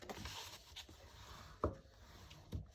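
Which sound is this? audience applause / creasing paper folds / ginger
creasing paper folds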